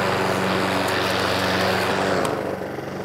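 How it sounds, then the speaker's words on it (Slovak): A Honda HRN 536 VY petrol lawn mower with its blades engaged runs at full power, a loud, steady, close engine roar with broadband whir that eases slightly near the end. "Keď chceme naštartovať čepele, stlačíme tlačidlo rotostop a posunieme k sebe páku."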